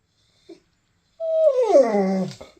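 A pet dog gives a tiny yip, then after a pause lets out a drawn-out whimpering whine that falls in pitch, close and fairly loud in a quiet room.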